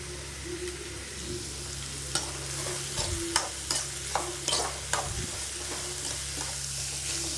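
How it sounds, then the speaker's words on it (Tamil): Onions sautéing in a pan give a steady low sizzle, broken by a series of sharp spatula scrapes and clinks as they are stirred, close by with no talking. "வெங்காயம் நல்லா வதங்கணும்."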